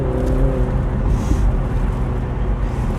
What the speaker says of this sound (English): with that roof down, we've got some really nice exhaust noise as well,